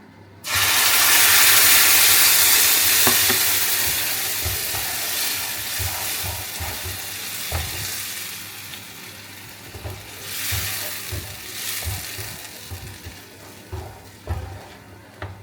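Liquid hits a hot pan over low heat with a sudden loud hiss, then settles into a steady sizzle with occasional stirring clatter, while cooking palak paneer.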